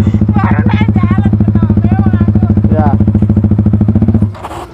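A Yamaha R15 V3 sport motorcycle ridden by a learner rider idles loudly and close by with a steady pulsing beat and short throttle blips, and voices talk over it before the engine note drops away at the end.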